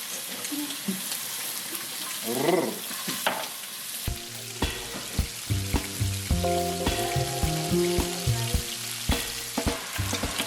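Burger patties for Halloween sliders fry in hot oil in a pan, a steady loud sizzle and crackle with sharp spattering pops, joined partway by clinking and scraping of a utensil; no one speaks.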